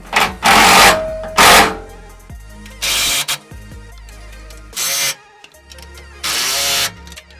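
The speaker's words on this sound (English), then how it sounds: "these were 19 millimeters, so we're just gonna go around and tighten them up" Bursts of a power tool drive 19 mm bolts on a Toyota aftermarket steel skid plate under a 4x4, several short loud whirring runs separated by pauses and faint clanks.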